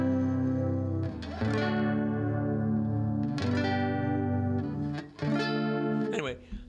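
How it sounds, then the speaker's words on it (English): An electric guitar is played through an amp with heavy chorus, as sustained strummed chords ring and shimmer in a steady swirl, close and loud, changing chord every second or two. "that's as much chorus as I can get out of this amp"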